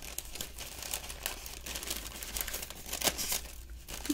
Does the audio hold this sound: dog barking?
no